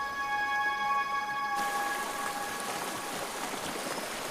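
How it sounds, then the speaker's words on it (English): Water running through a tropical rainforest gully in Jianfengling, Hainan, a steady close wash with faint tonal insect or bird lines at first, then broad splashing flow filling the rest without any voices. "The running streams and abundant rainfall create numerous wonders of life"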